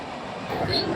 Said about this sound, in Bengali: এই যে ট্রেনটা হুস করে যাচ্ছে দেখছেন, এটার নাম হচ্ছে মালদা ইন্টারসিটি এক্সপ্রেস ভায়া রামপুরহাট